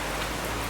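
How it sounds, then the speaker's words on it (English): Heavy rain falls on a house roof, a dense, loud, unbroken hiss of drops that stays constant. "This rain caught us with our pants down."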